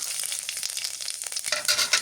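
Spices hit hot oil for tempering in a village kitchen, a dense steady sizzle and crackle with brief stirring scrapes, close and loud throughout.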